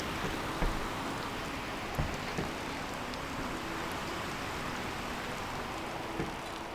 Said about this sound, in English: Holy heck, it's raining.